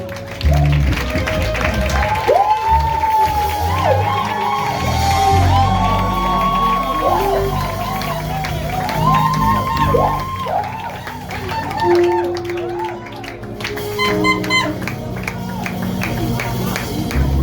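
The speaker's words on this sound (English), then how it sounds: "Please, with a clapping ovation, we welcome you." A church congregation applauds and cheers in a sustained burst of clapping, whoops and shouts, loud and close, with a held musical tone drifting over the crowd noise.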